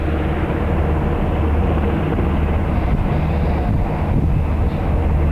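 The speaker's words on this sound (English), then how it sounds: "Chopper's taking off." A military helicopter lifts off from a forward operating base, a loud, steady, dense rotor and engine roar that fills the whole clip without a break.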